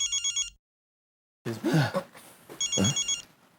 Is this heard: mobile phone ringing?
yes